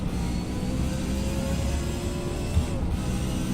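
Race car engine in Forza Motorsport, a steady droning whine held at near-constant pitch as the throttle is lightly feathered, continuous and unbroken with a faint engine hum underneath.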